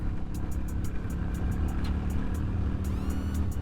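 A 2001 Yamaha Dragstar 250 cruiser motorcycle running while being ridden, its steady low engine drone continuous and fairly loud, with a faint rising whine near the end and no talk.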